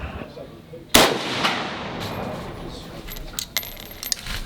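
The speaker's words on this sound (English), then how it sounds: "They're spent casings." Spent AK-47 bullet casings clink as they drop, beginning with one sharp close metallic strike followed by lighter jingles and small rattles.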